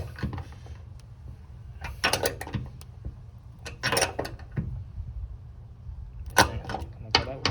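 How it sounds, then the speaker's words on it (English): A torque wrench tightens a bolt in a workshop, with bursts of close ratcheting clicks and metallic snaps over a low steady hum, the clicks repeating in several uneven clusters. "Okay, so let me torque it down."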